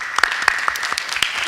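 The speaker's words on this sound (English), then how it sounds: "Give them a round of applause." A small crowd gives a short round of applause at a city budget listening session, with sparse, uneven claps close by and no voices over them.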